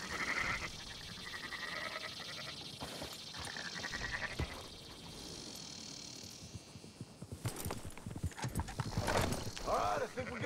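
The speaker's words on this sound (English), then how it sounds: "Marston, why don't you leave the sheep to me?" Sheep and horses in the Red Dead Redemption 2 video game, with clopping hooves and animal calls under fairly continuous speech and ambient game sound, growing busier and louder toward the end.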